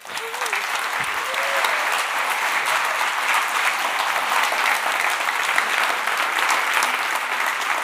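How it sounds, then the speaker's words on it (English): An audience applauds the Onepage team at a business talk, a steady, full round of clapping that swells after the first second and holds evenly throughout. "I would suggest a round of applause for the Onepage team"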